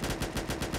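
Rapid automatic gunfire in a Warhammer 40K roleplay video game, a steady burst of evenly spaced shots, fairly loud and close, with no voices over it.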